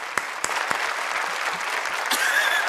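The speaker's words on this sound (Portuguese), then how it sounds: "Um aplauso para Inês à espera" A studio audience on a Portuguese comedy game show applauds a contestant, a dense, steady patter of clapping with a few sharper claps standing out, moderately loud and without talk.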